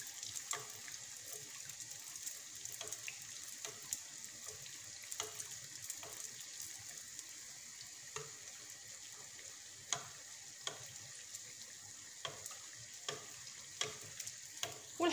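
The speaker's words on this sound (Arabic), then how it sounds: "نكمل نقلي كامل الحبيبات ديالي بنفس الطريقه" Beignet dough frying in hot oil, a steady close sizzle with scattered sharp crackles and pops running throughout, no voices.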